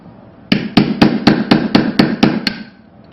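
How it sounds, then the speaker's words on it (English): A hammer strikes a metal cutting punch eight times in a steady rhythm, cutting disks from sheet metal, each blow a sharp, ringing clank up close. "And I'll take my cutting punch."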